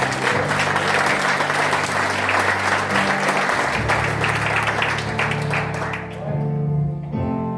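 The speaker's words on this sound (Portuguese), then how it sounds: "Aplauda o Senhor pela vida deles." A church congregation applauds steadily and loudly through most of the stretch, with sustained music tones underneath, and the clapping thins out near the end.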